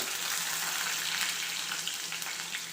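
Curry leaves, ginger and garlic fry in a pan for a potato roast, giving a steady, close hiss and crackle of hot oil with no voices.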